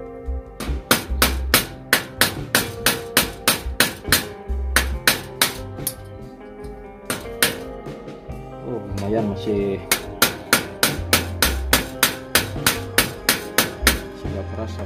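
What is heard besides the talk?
hammering a nail to loosen a rusty bicycle freewheel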